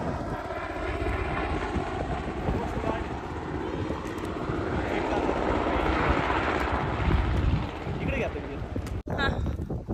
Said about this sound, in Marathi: तर मित्रांनो, आत्ताच आपण कोस्ट गार्ड हेलिकॉप्टर घेतले